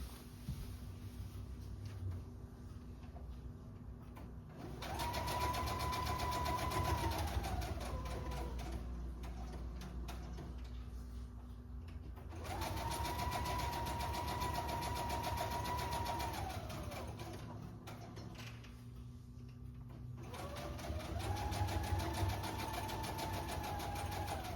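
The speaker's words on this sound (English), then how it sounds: "let me sew the edges" Sewing machine stitching the edges of fabric pockets for journals, running in three steady whirring bursts of several seconds each, separated by short pauses, close and moderately loud.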